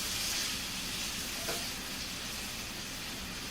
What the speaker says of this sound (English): let's get that sizzle. Bring this over here, start getting some of my bacon grease all over the place